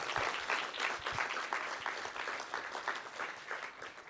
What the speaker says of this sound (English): please give our partners and sponsors a big hand of applause